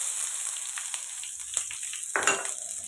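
Onion, green chilli, ginger, garlic and cashews fry in a kadai, a steady close sizzle with scraping stirs and a louder burst of crackling near the end, no voices.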